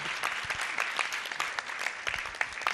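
A crowd applauds steadily, many hands clapping together in a dense, continuous patter that neither builds nor fades.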